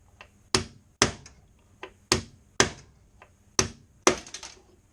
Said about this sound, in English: I'm going to drive this pin out of the center of the rivet into the door.